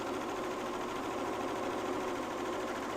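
A coverstitch sewing machine stitching a pajama top gives a steady, even motor drone with a fast mechanical rattle, running continuously up close without pause or speech.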